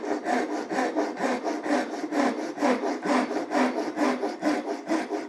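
Japanese pull saw making a rip cut through timber, a close rhythmic rasp of steady strokes, about two per second, with no talk.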